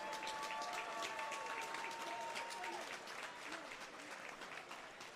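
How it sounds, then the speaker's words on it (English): Crowd at a professional boxing night in a downtown Tampa Hilton ballroom claps for both boxers, a full burst of applause with a faint announcer voice, gradually thinning toward the end. "let's have a nice round of applause for both boxers"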